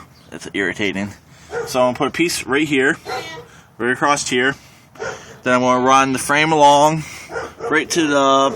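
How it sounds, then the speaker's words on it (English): A neighbour's dog a couple of doors away barks intermittently, while someone talks continuously over it at close range. "Sorry about the dog barking."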